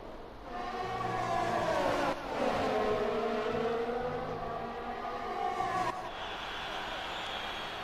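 Formula 1 cars racing in the F1 2020 video game at the Chinese Grand Prix, a high engine whine that rises and falls through gear changes, with a commentator talking over it.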